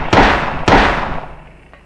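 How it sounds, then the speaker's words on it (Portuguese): Two loud, sharp gunshots ring out in the video game Silent Hill, about half a second apart, each booming with a decaying echo, followed by a faint click near the end. "Tá atirando no outro."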